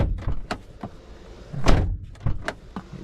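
Driver's door of a Matrix XRS being shut during key fob programming, heard as a series of solid thumps and latch clunks, the loudest near the middle, each one close and separated by brief pauses.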